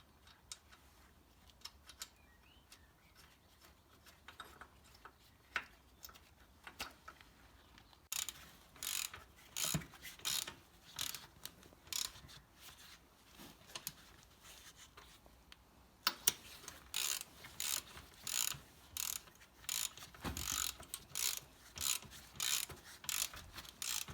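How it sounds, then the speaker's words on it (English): A ratchet with a deep socket tightens nuts onto spring washers on a 1964/5 Bolens 900 garden tractor, giving rapid clicking pawl bursts in repeated strokes, faint at first and then close and steady, with no talking. "There we go, tightened up. Deep sockets are very useful for this kind of thing."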